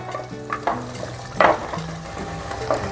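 Onions sautéing in a clay pot for a ground-masala fish curry give a steady close sizzle, broken by several scraping stirs and clinks of a utensil against the pot.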